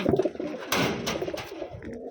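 A hen pigeon coos softly in short throaty bursts, close by, with some rustling noise in between.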